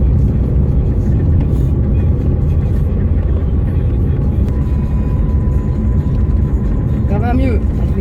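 A car driving on a road at about 50 km/h, with a steady, loud engine and road rumble from inside the cabin that continues throughout and a brief whining sound near the end.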